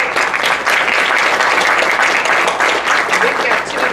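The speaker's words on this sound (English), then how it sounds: "We've got two exonerees up here from Lake County, and they're clapping." Applause from an audience at a wrongful conviction seminar, steady and dense throughout, a continuous wash of many hands clapping fairly close with no pauses.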